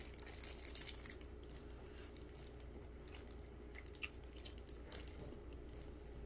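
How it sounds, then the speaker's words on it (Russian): Soft, close chewing of potatoes, with faint wet squishes and occasional small crunches over a low, steady background hum; no talking. "И здесь картошка. Сегодня я только ем"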